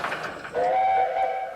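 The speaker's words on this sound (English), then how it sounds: "Thomas's whistle was different in the pilot compared to the final show" A steam engine whistle from the 1983 Thomas the Tank Engine pilot sounds one sustained, clear tone for about half a second over a low rolling rumble of rail noise.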